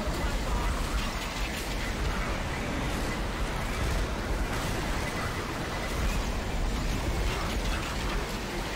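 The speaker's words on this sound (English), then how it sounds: "These are some fucking storm effects." Storm effects in the video game Left 4 Dead 2 form a loud, dense, unbroken roar of rain and wind with a grinding, distorted low rumble that lasts throughout.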